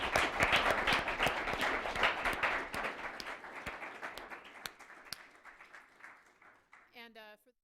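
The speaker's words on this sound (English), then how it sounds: "let's give our panel a big round of applause" An audience applauds a panel discussion on terrorism and social media, with loud, dense clapping at first that thins and fades gradually before a voice starts speaking near the end.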